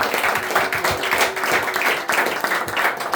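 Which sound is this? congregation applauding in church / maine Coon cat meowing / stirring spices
congregation applauding in church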